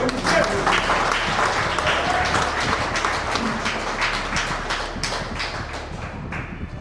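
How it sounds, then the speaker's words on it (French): A church congregation breaks into loud sustained applause and cheering, a dense wash of clapping that fades slightly toward the end, with voices mixed in. "Quelqu'un avait compris, il va acclamer."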